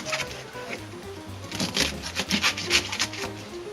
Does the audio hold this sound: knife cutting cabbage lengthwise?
yes